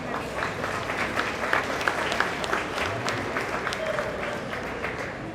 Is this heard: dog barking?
no